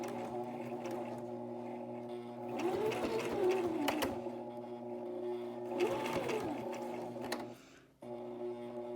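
A sewing machine stitches a fabric face mask with a steady, quiet whir and a rhythmic needle tick, pausing near the end before starting again.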